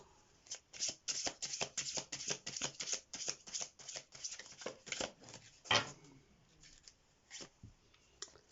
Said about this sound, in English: Let's do some of these message cards for you.